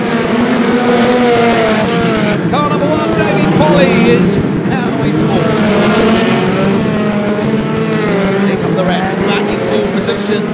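Reliant Robin banger cars race past on the back straight at Mildenhall, engines loud and continuous with revving and passing roars throughout, while a commentator talks over them.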